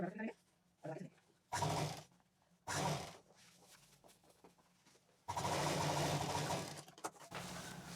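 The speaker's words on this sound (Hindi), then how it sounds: "सिल देंगे मशीन से ही।" An electric sewing machine stitches the ends of a fabric pillow in short whirring bursts, then one longer steady run, close and clear with pauses between.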